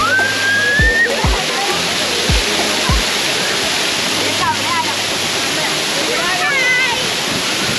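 Water rushing over dark granite rocks at a forest waterfall, a steady broadband roar filling the scene, with birds chirping above it and several low knocks underneath.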